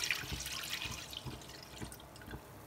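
Wheat milk for atta halwa is strained through a sieve, giving quiet, continuous liquid trickling and dripping in a kitchen, faint and without talk.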